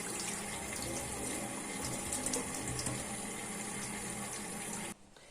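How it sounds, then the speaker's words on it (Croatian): Running water pouring steadily while rice is washed, a dense, close splashing rush that cuts off abruptly near the end. "Trista grama riže prvo operite."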